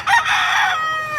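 A rooster at a farm in Consolacion, Cebu crows once, a loud, close, bright call that holds for about a second and then fades.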